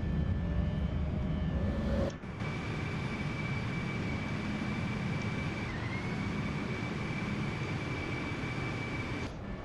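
Airplane climbing just after takeoff with its landing gear retracting: a steady, loud roar of engine and airflow, broken by a sudden clunk-like drop about two seconds in and a slight shift in tone midway, with no talking.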